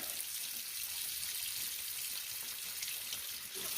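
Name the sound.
water rinsing a SodaStream bottle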